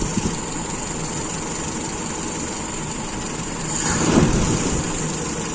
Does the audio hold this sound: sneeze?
no